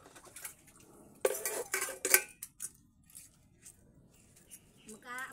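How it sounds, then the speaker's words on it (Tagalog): Dishes and plates being washed by hand: sharp clinks and clatters of plates and cutlery come in bursts, with running water and quieter pauses between, heard up close. "Tuturo ko lang sa iyo kung paano maghugas ng plato."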